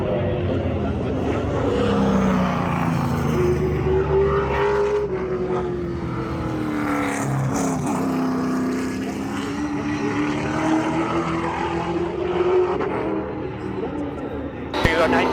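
A race car out on a practice lap at a race-day event, its engine droning steadily with a rising and falling pitch that sweeps through gear changes, loud and close throughout, with a voice talking over it.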